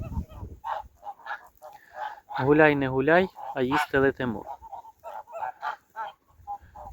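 Tula straight-nosed geese give a cluster of loud, close honks amid quieter scattered calls, while someone talks over them outdoors.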